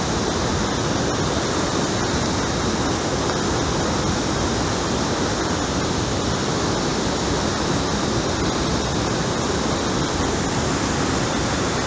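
A river in Uttarakhand rushing past close by, a loud, dense, constant roar of flowing water that fills the whole stretch without change and with no voices.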